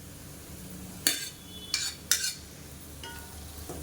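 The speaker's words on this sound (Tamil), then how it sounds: "இப்போ நல்லா கலந்து விட்டுக்கலாம்" Basmati rice being stirred into a spiced mixture in a pan, a few short scraping clinks of a spoon against metal in bursts, near and moderately loud over a quiet background.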